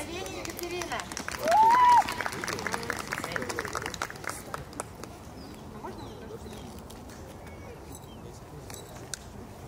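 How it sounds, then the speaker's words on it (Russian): Applause at an outdoor awards ceremony for a dog sled sport competition, a burst of clapping in the first few seconds that thins out and fades, with a brief whistle and background voices. "Аплодисменты!"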